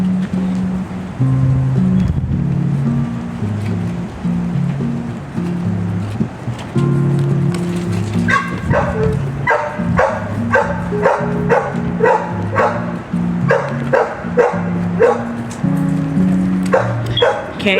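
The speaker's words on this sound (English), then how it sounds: "Can't have a peaceful moment out here without the dog barking." A dog barks repeatedly in an outdoor garden, a run of sharp, close barks in a fairly steady rhythm during the second half, following a low rumbling background and some earlier yips.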